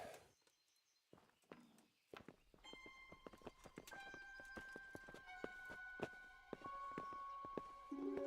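Horses walking in the medieval video game Kingdom Come: Deliverance, with irregular hoof clops and thuds building into a steady uneven rhythm over a faint tonal backdrop, quiet overall and free of speech.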